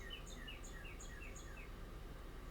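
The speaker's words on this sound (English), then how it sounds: "It's interesting when that one bird is very loud, and I feel like rude for interrupting it." A bird sings outdoors in a steady run of repeated high chirping phrases, close and fairly clear over a constant low background hiss with faint insect-like noise.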